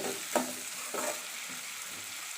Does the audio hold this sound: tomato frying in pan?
yes